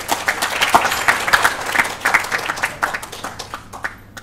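Audience applause following a keynote talk at an academic conference, a room of scattered hand claps rising and thinning over several seconds, fairly close and uneven, with no one speaking over it.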